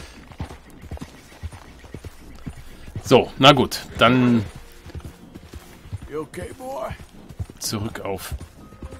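Horse hooves in a Red Dead Redemption 2 game clip-clop at an easy walking pace under someone talking, with the steps clearer during pauses in his speech.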